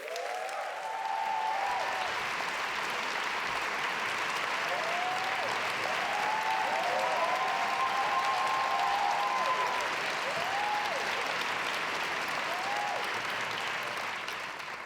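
A large audience claps warmly and steadily for Richard Gere at the Skoll World Forum awards ceremony, a sustained even roar of applause with scattered whoops and cheers rising above it.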